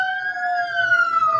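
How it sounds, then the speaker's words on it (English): A siren wails steadily with a sustained two-tone pitch that slowly drifts lower, loud and clear with no talking. "Don't you love the sound of sirens?"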